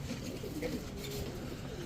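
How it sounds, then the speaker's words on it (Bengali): Shahjahanpuri pigeons cooing softly in a short, low murmur, faint against background noise. "কবুতরটা দেখেন আগে এটা হচ্ছে শাহজাহানপুরি দিয়ে করা একটা নট"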